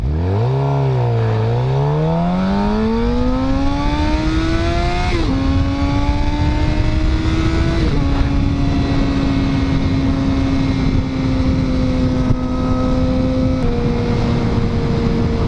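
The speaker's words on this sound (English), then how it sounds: "This Megaphone GP slip-on exhaust by Akrapovic." A Suzuki GSX-R750 motorcycle with an Akrapovic Megaphone GP slip-on exhaust revs up loudly from idle to a high, steady drone, holding and easing through a few gear-like steps, close and continuous.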